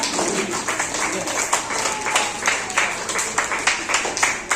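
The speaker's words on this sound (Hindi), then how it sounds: "बच्चों एक बार तालियों के साथ स्वागत करें उनका" Children at a school Teachers' Day celebration clap to welcome a guest, a lively, rhythmic round of applause with bursts of hands keeping a loose beat throughout.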